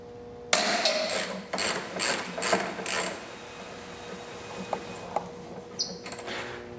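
Ratchet wrench breaking loose and turning out bumper cover bolts on an Audi A4 B6 1.8T, a rapid burst of close, loud ratcheting clicks in several bursts, then a few sparse clicks and clanks of tools.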